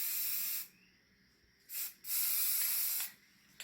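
Spray paint hisses in steady bursts as a light coat goes onto a Coleman mini bike, with a short burst, a brief pause and then a longer continuous spray, close and fairly loud with no talking.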